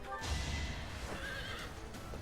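A horse neighs in the Fire Emblem Three Houses video game, a loud whinny with hoof clip-clops, close and prominent over the game's battle sounds.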